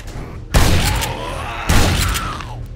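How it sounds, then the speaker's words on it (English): Two booming shotgun blasts from the 7 Days To Die game, on Darkness Falls insane difficulty, go off about a second apart, each loud and close with a heavy low-end thump and a rolling tail. "Let's try the shotgun."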